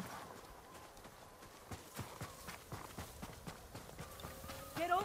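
Horses clip-clop at a walking pace on open ground in the video game Ghost of Tsushima, with soft repeated hoofbeats under quiet ambient game sound and a brief louder rustle at the end.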